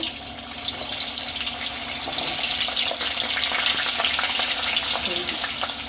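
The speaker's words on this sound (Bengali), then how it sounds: "অল্প আলু লাড়বো, আমি আগে আলুটা লেড়ে নেব।" Potatoes stir-fry in oil in a kadai, giving a loud, continuous sizzle and crackle with occasional scraping as they are moved around, no voices over it.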